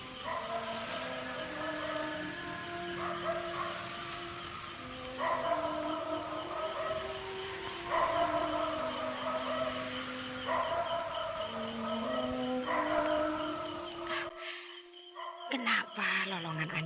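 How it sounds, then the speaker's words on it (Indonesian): A dog howls nearby in a radio drama, giving long, wavering, drawn-out cries that repeat for about fourteen seconds before cutting off abruptly, followed by a few brief scattered sounds. "Kenapa lolongan anjing itu dekat sekali bunyinya ya?"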